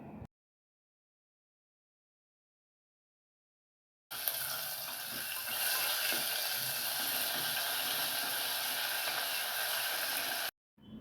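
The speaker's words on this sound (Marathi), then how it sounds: "अद्रक लसूणची पेस्ट तेलामध्ये परतून घेते." Ginger garlic paste frying in a couple of spoons of hot oil with cumin and mustard seeds: a steady, close hiss and sizzle that begins suddenly after silence and holds at an even level before cutting off.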